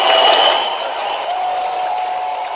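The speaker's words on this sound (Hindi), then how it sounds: "जोरदार तालियां बजाएं।" Applause from a crowd at a Fit India youth run event in Bhopal, a dense steady wash of clapping, loudest at the start and then holding even, with no voices standing out.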